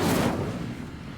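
Incendio fire spell cast in Hogwarts Legacy, a loud burst of blast and crackle at the start that swells briefly, then decays into a rumbling, fading tail.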